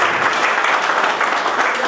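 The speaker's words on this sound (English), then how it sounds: "I need you to clap for them, really" A hall full of people at an engineers' get-together and certification ceremony claps loudly and steadily, a dense continuous wash of hands with no pauses.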